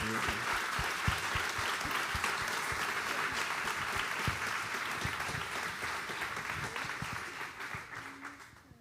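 An audience applauds in a sustained, fairly distant roar of many hands clapping, fading slightly toward the end.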